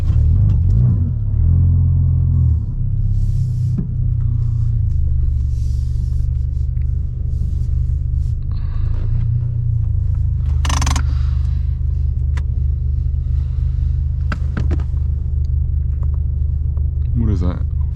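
A Ford Focus RS engine at a gas station gives a heavy, steady low rumble throughout, close and loud, with no sharp revs standing out. Faint indistinct voices sit in the background.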